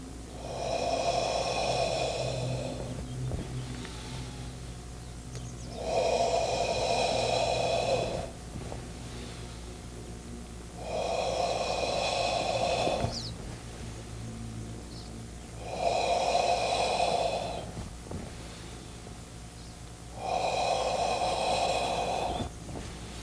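Deep, slow breaths during a qigong exercise, five long airy rushes recurring about every five seconds, each swelling and fading, close to the listener with no talking.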